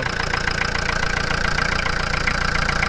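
A dirty, leaking diesel engine in a camping car idles steadily as it warms up, a continuous close mechanical rumble with a faint ticking knock running the whole way through, no talk over it.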